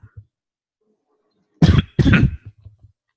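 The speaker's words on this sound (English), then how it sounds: "Excuse my cough." Two sharp, loud coughs in quick succession, close to the listener, surrounded by near silence with a few faint soft noises afterward.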